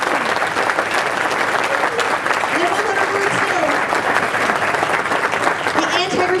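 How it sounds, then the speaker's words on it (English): An evening event audience gives a round of applause, a thick, even wash of clapping that holds steady from start to finish. "Can we have a round of applause?"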